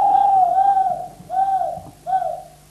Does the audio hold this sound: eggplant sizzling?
no